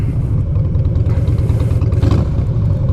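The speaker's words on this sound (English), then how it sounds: "Look at this guy on a crotch rocket." A sport motorcycle engine, a crotch rocket ridden fast, holds a steady, loud, dense rumble throughout, with a slight rise near the two-second mark, close and continuous with no talk.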